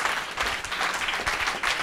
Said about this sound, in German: das ist ein mega Applaus wert